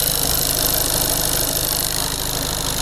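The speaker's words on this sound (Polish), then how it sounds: "Zajmujemy się nierówną pracą silnika" A VW Golf 7 1.6 TDI diesel engine idles unevenly with a steady low rumble and faint vibration, close and continuous throughout.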